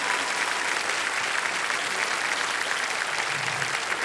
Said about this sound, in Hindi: ताली बजा रहे हैं इतनी जोर से तुम्हारे लिए